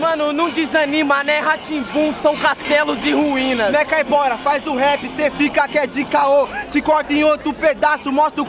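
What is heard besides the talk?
No everyday noises stand out.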